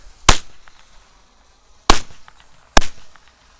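Three loud, sharp bangs from a Kometa P0011 shooting-fuse firecracker, spaced out over a few seconds, each followed by a brief rumbling decay outdoors.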